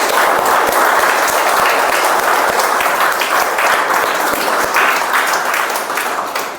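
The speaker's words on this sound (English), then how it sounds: "let me request all of you to give them a huge round of applause" A large audience at a speech evaluation workshop meeting bursts into sustained applause, dense and steady for about six seconds before beginning to fade at the end.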